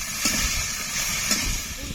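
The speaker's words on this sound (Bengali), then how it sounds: "এবার ফুলকপিগুলো ভেজে নেব" Cauliflower florets seasoned with salt and turmeric frying in hot oil give a steady, close, bright sizzling hiss throughout.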